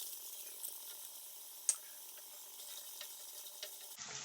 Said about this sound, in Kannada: ಈರುಳ್ಳಿ ಚೆನ್ನಾಗಿ ಗೋಲ್ಡನ್ ಬ್ರೌನ್ ಆಗುವವರೆಗೂ ನಾವು ಫ್ರೈ ಮಾಡ್ಕೊಳ್ಬೇಕು.